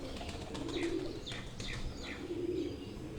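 Breeder pigeons coo from close by in soft, low repeated phrases, with a few lighter chirps over a steady background murmur.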